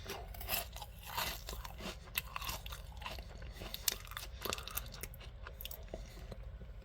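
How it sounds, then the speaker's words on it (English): Close-up crunching of breakfast cereal between teeth, a dense run of crisp bites and chews that goes on steadily for several seconds, with no talking. "And you crunch it down with your teeth."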